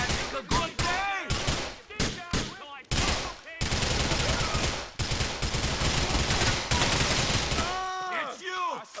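Gunfire rattles in Grand Theft Auto IV: loud, close bursts of rapid shots, first in quick clusters and then in a long sustained volley, with shouting voices breaking in between.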